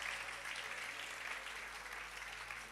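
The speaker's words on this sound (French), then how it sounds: "Est-ce que tu peux acclamer le Seigneur?" Church congregation at a French-language service clapping together, a dense wash of applause and acclaim, steady and moderately distant throughout.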